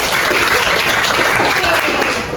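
A classroom of students applauding after a microteaching lesson, dense continuous clapping from a group, loud and close throughout.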